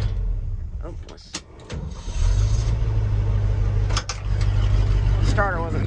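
A Dodge Dakota truck's starter cranks briefly before the engine catches and settles into a steady low idle, with a short voice heard over it near the end.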